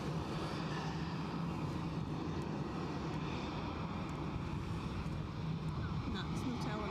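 A Loganair airliner at Edinburgh Airport, heard as a continuous broad jet engine roar at moderate distance throughout, steady and unbroken.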